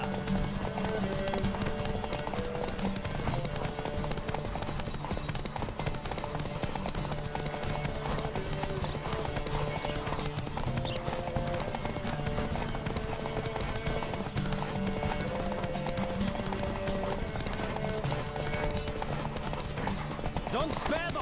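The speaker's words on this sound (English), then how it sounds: "Don't spare the horse!" Horse hooves galloping in rapid, steady clip-clop rhythm during a horse race in the video game The Witcher 3: Wild Hunt, continuous and prominent, with a busy layer of game sound throughout.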